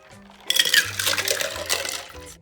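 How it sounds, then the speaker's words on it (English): Distilled water pours into a container holding ice, giving a short clinking, splashing burst that starts abruptly and tapers off over about two seconds, heard close up with no talking. "Add 100 grams of distilled water."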